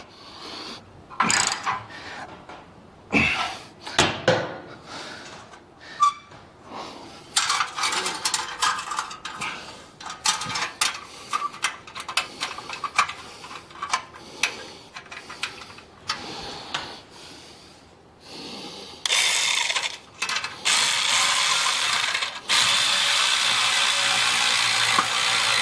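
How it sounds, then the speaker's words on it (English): Wrench work tightening the catalytic converter heat shield on a Harley-Davidson fitted with Tab Performance slip-on mufflers: irregular ratcheting clicks and metallic clatter come in bursts and longer busy stretches, close and fairly loud, with no talk. "that's the heat shield for the catalytic converter that I just tightened up"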